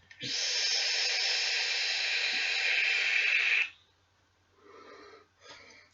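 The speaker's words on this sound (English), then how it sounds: "We've got the Malstrom from Lost Vape all juiced up, wicked up, all sorted. And let's have a little crack at the vape." A long, steady airy hiss of a draw through a Lost Vape Malstrom RDA rebuildable dripping atomizer lasts several seconds, followed by quieter breathy exhales.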